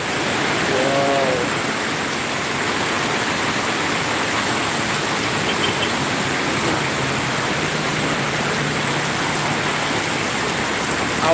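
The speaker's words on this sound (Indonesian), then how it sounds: "di Suku Salam sangat hujan deras." Heavy tropical rain pours steadily in Subulussalam, Aceh, a dense, loud, unbroken hiss throughout with no talk over it.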